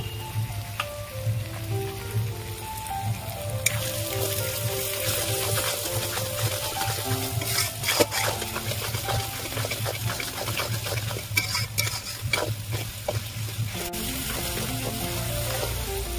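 Onions and chopped tomato frying in hot oil, a loud continuous close sizzle with crackling bursts that swell and ease, with no talking over it.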